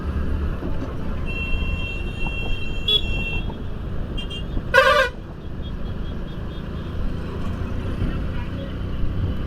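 A vehicle horn blares once in heavy road traffic on the way to Kadi, Gujarat, a short loud toot rising above a constant rumble of engines and road noise.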